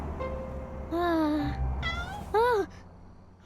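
Cartoon cat meowing several times, close and clear, with drawn-out rising and falling mews separated by short pauses over a quiet background.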